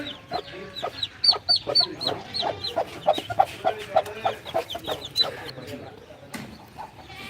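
A hen clucks beside her newly hatched chicks, which cheep in a steady stream of high, rapid peeps. Soft low clucks run beneath the chirping at close range.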